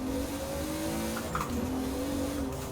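A 1000 hp Toyota Supra street build in Forza Horizon 4, engine held at a steady high rev with a strong tonal drone and a brief squeal of tires, close and unbroken throughout.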